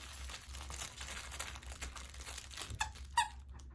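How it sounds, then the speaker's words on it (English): A puppy plays with a crinkly stuffed toy that has a squeaker inside, giving soft rustling crinkles and a couple of sharp, close squeaks near the end with no talk. "He's currently playing with this crinkly, stuffy toy that has a squeaky in it."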